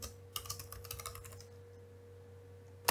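Quick typing on a computer keyboard, a short flurry of soft close keystrokes over a faint electrical hum, then quiet with only the hum remaining.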